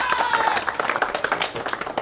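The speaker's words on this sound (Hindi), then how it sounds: "इस्तकबाल कीजिएगा तालियों में जनाब सुल्तान" Studio audience clapping to welcome a guest named Sultan onto a Pakistani comedy stage, dense steady applause with crowd noise and some voices mixed in throughout.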